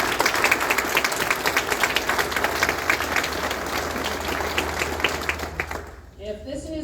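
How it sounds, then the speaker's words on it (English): An audience claps steadily for several seconds at an honor band concert, a dense patter of applause that fades out, followed by a brief murmur. "we'll applaud after each group"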